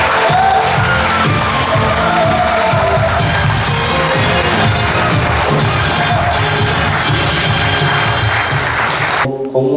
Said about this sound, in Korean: 여러분 이분들께 뜨거운 박수.